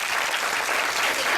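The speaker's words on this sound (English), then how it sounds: "I didn't know you guys are going to clap for" An audience at a summit keynote claps in a dense, even burst, sustained and fairly loud for the whole short stretch.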